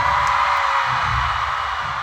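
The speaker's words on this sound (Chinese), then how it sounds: "尖叫声再大一点！" A large concert crowd at a stadium tour show in Shenzhen screams and cheers in a loud, sustained roar of high-pitched voices, dense and continuous throughout.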